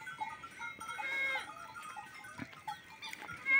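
Goats on a family farm in hot northeastern Brazil bleat faintly and intermittently against open outdoor background noise, with a few louder thumps near the end.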